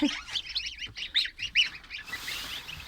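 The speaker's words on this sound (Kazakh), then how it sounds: "Мына жерде қаздар мен үндіктер тұр." A flock of domestic geese honks repeatedly in overlapping, fairly loud calls, then the calling fades into quieter background noise near the end.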